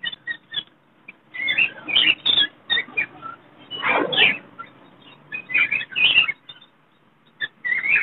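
Lovebirds at a Sunday bird market chirp and squeak in quick, bright bursts, close and loud, with short pauses between clusters of calls.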